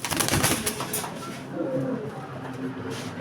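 A Jios line racing pigeon, a lively male, coos softly amid rustling and handling noise, with low murmurs and background clatter throughout.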